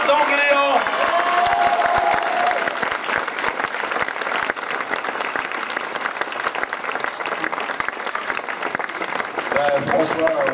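A crowd at a gathering applauds loudly and steadily for about ten seconds for a guest speaker, with brief voices at the start and end.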